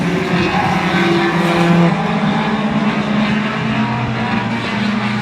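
Legends race cars run side by side in the Outlaw Division at Oyster Bed Speedway, engines roaring loud and close with pitch shifting as they power through the turns and pass by.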